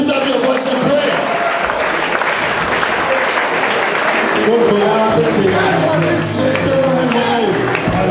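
Loud, sustained clapping from a church congregation at a service in Lome, Togo, steady throughout, mixed with voices raised in shouting and prayer.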